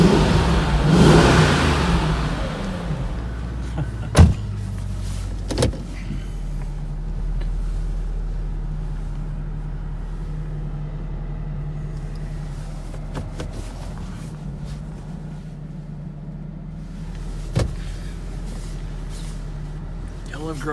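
A BMW 2002 rolls and revs inside a garage, its engine note echoing off the walls, loud at first and then settling to a steady rumble under a voice, with a few sharp knocks.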